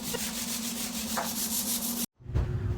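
Scrubbing in a ship's galley, a steady close rubbing swish that runs on and then cuts off abruptly, followed by a different quieter background.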